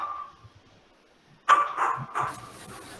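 A dog gives a short burst of loud, close barks in an indoor church setting during a service, following a quieter stretch with faint background sound.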